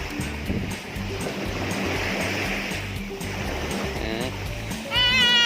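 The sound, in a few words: sea waves splashing at the beach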